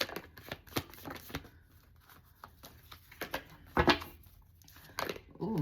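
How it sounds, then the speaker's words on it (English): Tarot cards shuffled by hand in a quiet room, a series of soft riffling bursts and flutters with brief pauses between them and no talk over them. "that's the same time it done flipped out with me just shuffling"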